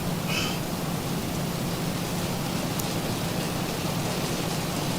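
Steady simulated rain in the X-Plane 12 flight simulator, heard on the flight deck of a Zibo Mod airliner during descent: a continuous, even hiss of rainfall on the aircraft, with no voices.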